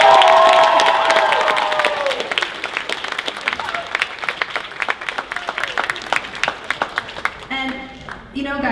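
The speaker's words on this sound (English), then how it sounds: "can I get one more round of applause for everybody," A convention masquerade audience claps and cheers at a cosplay judging event, the sound opening as a loud burst and then thinning into scattered, uneven claps that trail off, with a few shouts and a voice near the end.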